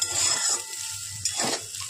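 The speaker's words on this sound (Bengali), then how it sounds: "পেঁয়াজ কলি আলু ভাজা করছি একদম কম তেলে" Potato and onion stalks frying in a small amount of oil in a kadai, giving a steady low sizzle with occasional stirring and scraping sounds from a utensil, close and alone with no talking.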